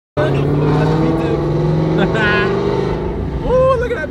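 A Dodge Durango rolls past nearby, its engine a steady, loud drone that holds for several seconds.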